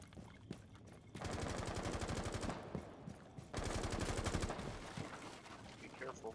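Rapid automatic gunfire fired through a wall in the tactical shooter Rainbow Six Siege comes in two sustained bursts of fast, evenly spaced shots, each lasting a couple of seconds with a short pause between them.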